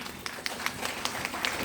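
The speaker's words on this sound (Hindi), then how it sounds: "एक बार मैडम जी के लिए शानदार ताली हो जाइए।" Scattered, moderately faint applause from a seminar audience welcoming a guest, a loose patter of individual claps spread across a short stretch.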